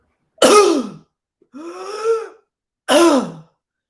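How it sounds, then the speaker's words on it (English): A young child choking on a cracker coughs hard three times, each a loud harsh burst in and out, separated by short silences; the middle cough is softer and more drawn out. "She had this beautiful big cough in and out."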